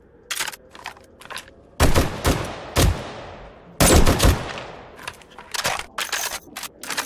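Submachine gun fire in 7 Days to Die, loud short bursts and rapid volleys of shots with brief pauses between them, close and dominant.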